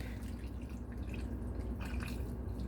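A cup of vegetable stock pours into a pot roast with potatoes and carrots, making a steady liquid trickle that runs under a constant kitchen background hum. Nobody speaks.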